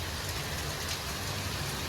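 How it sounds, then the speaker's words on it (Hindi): Heavy rain pours steadily in Gwalior, a thick, unbroken hiss of drops striking surfaces, even and fairly loud throughout with no voices. "क्यों हो रही है इतनी बारिश"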